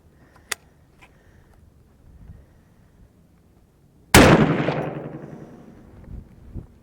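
A single sharp, loud 350 Legend rifle shot fired over a chronograph outdoors in cold weather, a sudden crack with a rolling decay after a few seconds of near silence.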